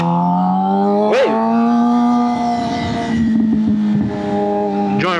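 Custom-built Suzuki GSX-R 750 motorcycle engine on a test ride, loud and close throughout, holding a steady drone before sharp revving surges near the start and end, with rising and falling pitch as the throttle opens.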